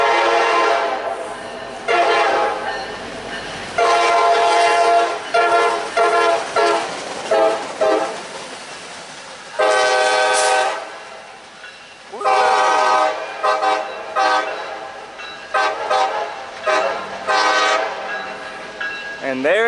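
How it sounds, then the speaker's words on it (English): A freight locomotive horn blares in long and short blasts, loud and close, with rumbling train noise between the bursts, as two locomotives pass southbound. "Engineer is showing off his horn skills today."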